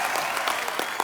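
A studio audience at a comedy talk show breaks into loud, dense, continuous applause that fills the whole moment, with no voices standing out.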